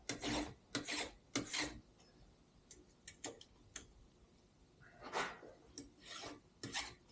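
A hand file sharpens a chainsaw chain in short, close, quiet rasping strokes, coming in small irregular bursts with brief pauses between them.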